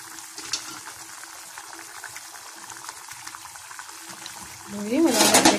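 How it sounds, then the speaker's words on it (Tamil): An onion and garlic kuzhambu simmers in a pot with soft, continuous bubbling, quiet and close. A voice comes in near the end. "மலை மலைன்னு கொதி வந்துருச்சு, குழம்பு தயாராகிடுச்சு."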